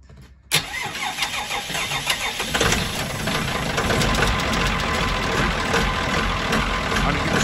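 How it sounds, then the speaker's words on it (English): A boat's starboard engine cold-starts, cranking briefly and catching, then settles into a loud, steady idle with a continuous low rumble and rattle close by, aboard a Rodman 1100 Fisher. "So if you could start the starboard engine please."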